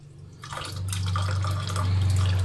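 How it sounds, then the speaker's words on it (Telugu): Water gushes steadily from a tap fed through a solenoid valve under repair, starting softly and then swelling into a loud, continuous close-up rush with no voices. "ఇప్పుడు మనం ట్యాప్ ఆన్ చేస్తా చూడండి."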